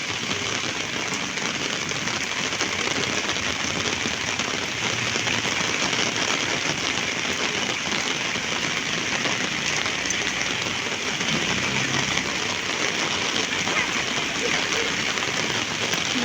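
Steady rain falling on a street where water has pooled, an even unbroken hiss that holds at a constant level the whole time with no pauses.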